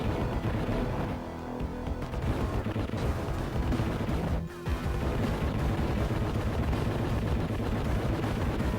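Bombs pound a tank boss in a Mega Drive game, a continuous barrage of loud, rough blasts and gunfire-like crackle with a brief gap midway.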